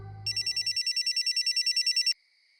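An old-style telephone bell rings in a rapid, steady warble for about two seconds, loud and close, cutting off abruptly; a low background hum fades out just as the ringing starts.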